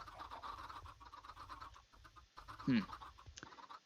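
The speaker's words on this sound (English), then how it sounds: "Wonder if maybe I should just get rid of the chicken circle of doom" A single short cluck from a Minecraft chicken rises briefly over a faint, steady game background.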